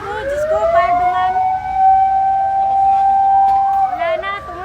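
A fire engine siren wails at a campus fire, a loud sustained rising-and-falling tone close by, with voices talking over it.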